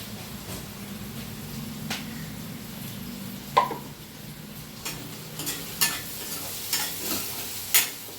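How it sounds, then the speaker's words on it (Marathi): Onion fries in a pan over medium heat with a pinch of salt, giving a soft continuous sizzle. Occasional sharp scrapes and taps of a spatula stirring ring out close by, growing more frequent toward the end. "थोडासा गॅस मीडियम ठेवून थोडा कांदा फ्राय करायचा."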